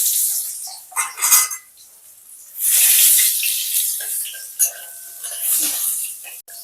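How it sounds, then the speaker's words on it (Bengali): Long-cut eggplant pieces drop into hot oil and hiss loudly, with a burst of sputtering frying and a few utensil clinks close by. "এবার ওই তেলের মধ্যেই বেগুনগুলো ভেজে নেব"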